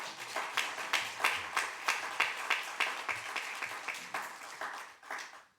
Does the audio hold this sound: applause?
yes